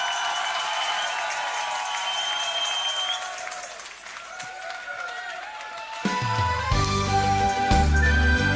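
A crowd applauds a singer at a carnival song contest finale, steady clapping and faint cheers that carry on as a band starts playing loud brass-heavy music.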